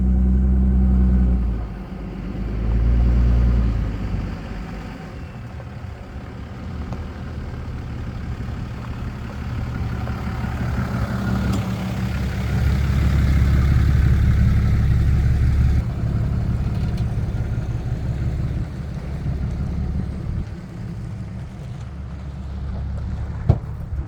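A car on the road near Moab in search of a campsite: a steady low engine drone and road rumble that hums continuously throughout, heard from inside the vehicle with no talking.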